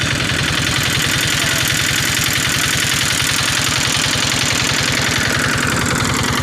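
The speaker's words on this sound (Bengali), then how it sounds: "এই যে নৌকা চলতেছে।" A motorboat engine running on floodwater between villages, a loud steady close chugging drone with an even rapid pulse throughout, no talking.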